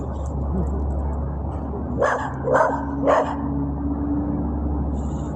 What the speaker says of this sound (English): He's such a small dog. He's a pit bull.